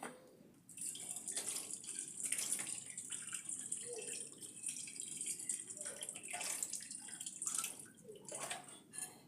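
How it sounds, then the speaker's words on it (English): Running tap water pours and splashes in a kitchen sink while an avocado is rinsed beneath it, a steady soft stream with intermittent splashes and no voices. "So now I'll wash my avocado."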